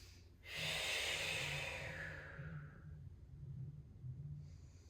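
One deep breath drawn in through the nose during a hip mobility and balance exercise, a long airy inhale close to the microphone that fades into a quieter, steady exhale.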